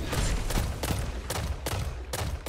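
Dragonfly legendary scout rifle firing in Destiny 2 player-versus-player combat, about six sharp loud shots in a steady rapid rhythm with no talk.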